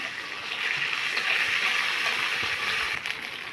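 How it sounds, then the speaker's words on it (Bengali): Water pours in a steady, full rush into a cooking pot holding fried onion, chilli and garlic paste for a taro stolon and prawn curry, with a faint gurgle and no voices. "পানি দিয়ে দিলাম"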